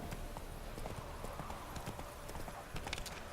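Horse hooves clip-clopping steadily in The Witcher 3 video game, a continuous close rhythm of hoofbeats over faint ambient background, with a brief low whinny-like sound near the end.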